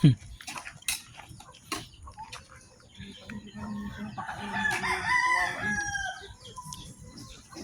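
Chickens cluck and a rooster crows amid busy outdoor background noise, with voices talking faintly in the mix.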